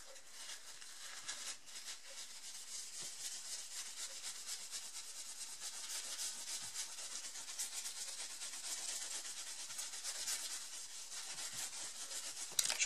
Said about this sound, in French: Je frotte un peu dans tous les sens parce que mon essuie-tout, bah, ça crée un peu des motifs